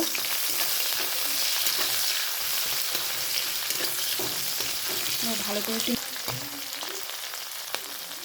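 A dried chilli, cumin and chopped onion fry in oil left from frying fish, giving a steady close sizzle with occasional stirring scrapes; the hiss drops slightly toward the end.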